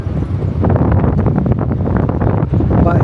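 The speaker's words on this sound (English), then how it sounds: "It's very breezy up here, but boy, it feels so nice" Breeze gusting across a hotel balcony in San Juan, Puerto Rico, a loud, steady wind rumble buffeting the microphone throughout.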